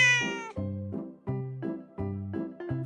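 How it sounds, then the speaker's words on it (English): Cat meowing, a string of about six clear, close, drawn-out meows in an even rhythm with no talk. "The cat goes."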